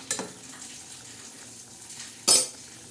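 Dried mandeli fish curry stirred in a pan, two short metallic scrapes of the spoon, one at the start and a louder one near the end, over a faint low sizzle.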